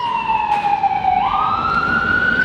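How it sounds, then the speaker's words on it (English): A wailing ambulance siren holds a steady tone, then bends upward in pitch, loud and close, with no voices over it. "Ambulances and things like this."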